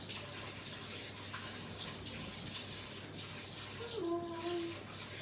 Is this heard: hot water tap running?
yes